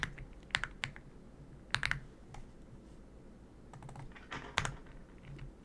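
Keys clatter on a computer keyboard in short, uneven bursts of crisp clicks with brief pauses between them, fairly quiet and close, with no one talking.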